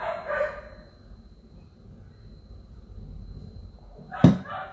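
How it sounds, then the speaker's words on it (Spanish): A dog barks outdoors, with one short bark near the start and a louder, sharper one near the end. A steady hum runs underneath the barks. "Es curioso porque ese perro le ladra al aire o a algo que no se ve."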